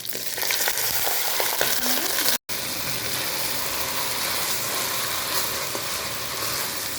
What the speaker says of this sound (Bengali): ঘি গরম হয়ে গেছে, এখন দিয়ে দিচ্ছি গোটা গরম মশলা।